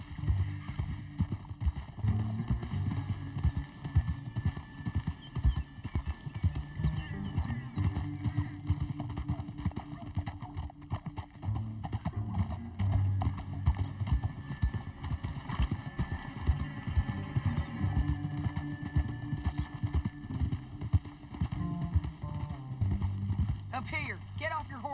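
Horse hooves clip-clop steadily through a Red Dead Redemption 2 ride, with occasional whinnies, set under continuous talk and a low music bed.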